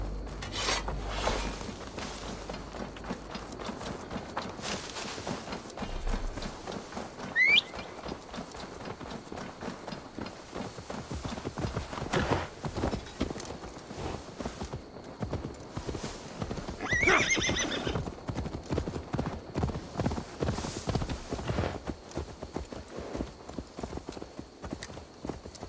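Horse hooves clip-clop steadily through a busy Assassin's Creed Valhalla game scene, with a couple of sharp neighs and whinnies rising above the trotting, all under layered ambient game sound.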